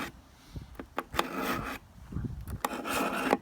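A 12-inch aluminum ruler is ground against a sharpening surface in a few rough rasping strokes, close and moderately quiet, with short pauses between passes and no talking.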